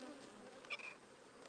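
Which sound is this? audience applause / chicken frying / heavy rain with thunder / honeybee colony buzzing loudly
honeybee colony buzzing loudly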